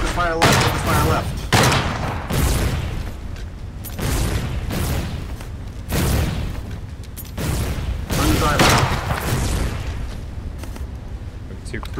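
Heavy gunfire and booming cannon blasts from a naval battle in the war game Foxhole come in repeated bursts every second or so, loud and close, with players talking over the shooting.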